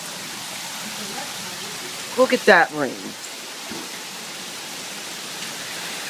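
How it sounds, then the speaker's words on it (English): Heavy rain falls outside in a steady, even wash of noise, with a person speaking briefly over it partway through. "It's a lot of rain, isn't it, right?"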